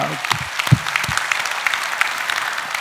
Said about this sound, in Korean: 우리 하나님께 박수합시다